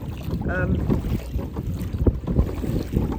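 Strong wind buffeting the microphone outdoors near water by a boat, a loud, rumbling low gusty roar with uneven surges throughout.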